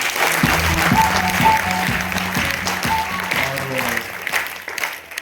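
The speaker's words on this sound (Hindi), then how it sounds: "तो एक बार दिल खोल के जोरदार ताली आप सबके लिए।" A seated audience at an RCM business meeting gives loud, steady applause for several seconds, a dense wash of clapping with a voice carrying over it that fades slightly toward the end.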